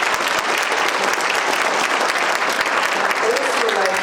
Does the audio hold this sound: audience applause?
yes